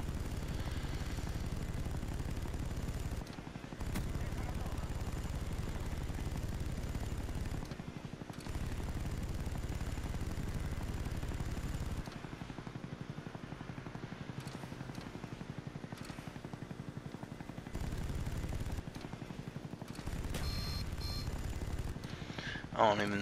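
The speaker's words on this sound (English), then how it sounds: "I hate the fucking chopper gunner on this map." Helicopter gunship and gunfire in the Call of Duty: Black Ops video game, a steady low droning rumble with bursts of firing that cuts out and returns several times over twenty-odd seconds.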